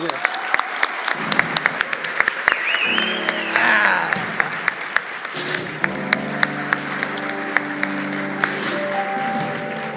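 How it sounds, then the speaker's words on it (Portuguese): A talk show studio audience claps steadily for about ten seconds, with loud sharp individual claps standing out from the crowd applause while voices speak over it. "Mas bastante palmas para ele."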